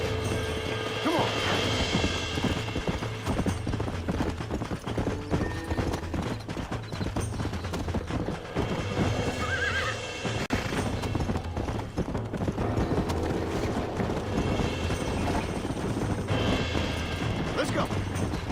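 Horse hooves clip-clop in Red Dead Redemption, a rhythmic clatter mixed with mechanical creaks and game ambience, running continuously beneath occasional talk.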